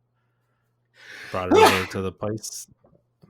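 A single sharp sneeze bursts out close by, with someone talking just before and after it.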